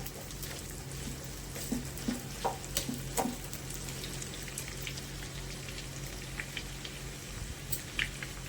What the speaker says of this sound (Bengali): মিডিয়াম সাইজের পেঁয়াজ স্লাইস করে দিয়ে দিলাম। এই পেঁয়াজের বেরেস্তা হবে।